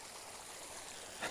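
Creek water flowing over rocks nearby, a soft, steady babble and trickle with a brief splashy swell near the end, quiet and without talk.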